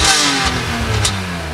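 A BMW M car engine revs loudly and close by, with a rising roar followed by a second quick blip of the throttle, and no talking over it.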